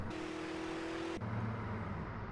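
A car in a video game drives across grass with a steady engine drone and a constant rushing hiss, and its tone drops abruptly partway through.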